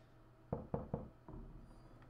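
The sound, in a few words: knocking in Visage horror video game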